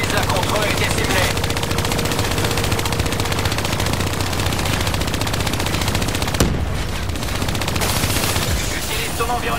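Turret machine gun fire in Call of Duty Black Ops 3, a dense, continuous loud rattle of rapid shots lasting most of the stretch, briefly dropping out near the end before resuming amid game noise.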